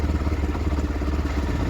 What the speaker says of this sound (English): when I turn the ignition on and started the engine